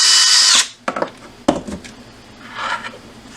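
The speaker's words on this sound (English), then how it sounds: "you want to drill" A high-pitched drill whines loudly through bone and then cuts off, followed by a few sharp knocks and scraping, and a fainter whir near the end.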